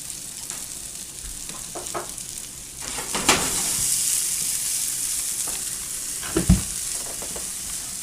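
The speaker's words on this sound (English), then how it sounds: "Now that's sizzle." Fresh white corn sizzles and crackles in a hot pan, a steady hiss with occasional louder pops and stirring scrapes, with no one speaking.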